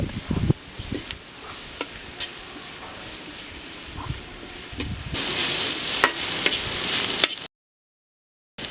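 Cabbage and carrots sautéing with ginger garlic paste and salt in a pan for egg fried rice, a steady sizzle with occasional stirring clatter that grows louder near the end before cutting off.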